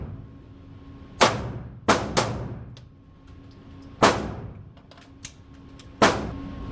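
Gunshots ring out at an indoor shooting range from a pistol fitted with a Zulisy OTTER RMSc red dot: five or six sharp, loud reports at irregular intervals, each trailing a short reverberant decay, with no talking.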